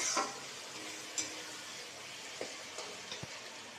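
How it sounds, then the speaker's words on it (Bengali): Food being stirred in a frying pan gives a quiet, steady frying hiss with a few soft scrapes and light taps of a spoon against the pan. "একটু নাড়াচাড়া করে নিয়ে"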